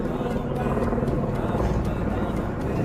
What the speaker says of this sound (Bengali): ওই যে দূরে দেখো হেলিকপ্টার যাচ্ছে